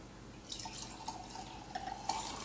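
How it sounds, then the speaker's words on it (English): A watermelon drink is poured from a glass pitcher into a chilled glass: gentle liquid trickling and splashing with a few bright, ringing drips against the glass, close and fairly quiet. "Okay, so let's pour this in our glass."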